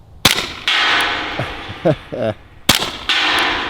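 Suppressed .45 ACP shots from a Ruger pistol-caliber carbine fired outdoors, two loud sharp reports about two and a half seconds apart, each followed by a distant metallic hit and ringing, with brief indistinct voices in between.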